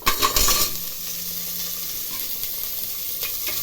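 Goat trotters frying in a pan with onions, a steady close hiss of sizzling oil after a brief burst of clattering at the start.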